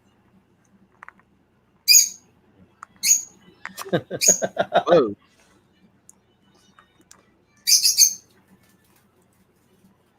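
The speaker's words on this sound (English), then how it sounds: "Come here, bird." Several short, sharp bird chirps in DC's animated New Frontier film, sounding in quick bursts and again a few seconds later, with a voice briefly exclaiming between them.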